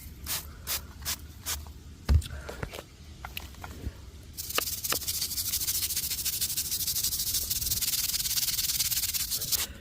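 A scrub brush scrubs latex paint off a concrete foundation, first in separate short strokes, then in a steady, loud, continuous rasp for the second half.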